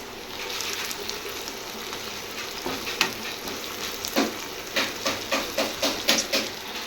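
Ginger garlic paste sizzles in a hot pan for a bachelor-style chicken curry, a steady frying hiss broken by a series of rhythmic scraping stirs near the end.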